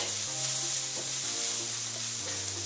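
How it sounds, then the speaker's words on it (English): Onions and mustard seeds fry on a small grill pan, a steady close hiss and crackle of sizzling with a few soft stirring scrapes and no voices. "So that's frying up nicely."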